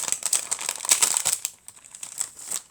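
A crinkly plastic package is torn open close by, with quick bursts of crackling and rustling that fade into softer crinkles.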